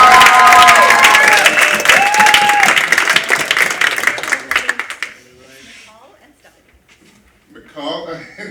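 At a high school poetry slam, a crowd claps and cheers loudly for about five seconds before the applause drops off into near quiet, with a few scattered voices and a brief burst of sound near the end.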